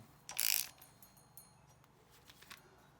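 A ratchet wrench tightens a bolt on a Porsche 928 engine, giving one short burst of quick mechanical clicking followed by a few faint ticks in a quiet workshop.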